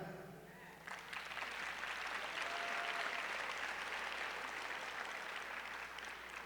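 A crowd at a high school commencement ceremony bursts into sustained applause after a brief moment, loud and steady clapping filling the space for several seconds.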